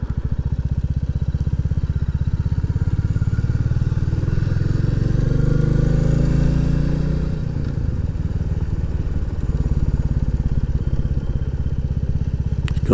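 A Royal Enfield Classic 350 single-cylinder motorcycle rides along a country road, its steady, close engine thump dipping briefly as the throttle eases, then building again with continuous wind and road rumble.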